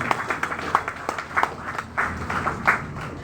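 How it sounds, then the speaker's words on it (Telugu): Audience clapping at a scholarship distribution event for poor students, a moderate, uneven patter of many hands at some distance, with faint voices underneath. "ఈ సందర్భంగా వారందరికీ గట్టిగా చప్పట్లు కొట్టి అభినందనలు తెలియజేయాలని"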